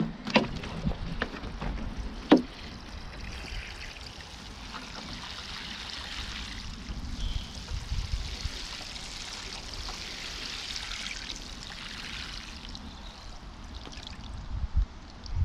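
Plants on an allotment being given a good soaking, a soft continuous splash and trickle of water running onto soil and leaves outdoors, with a sharp knock near the start and no talking.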